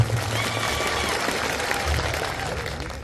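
Crowd applause at an AAP political rally in Kawant, Chhota Udepur: sustained, even clapping from a large outdoor audience that fills the whole stretch at a steady loudness.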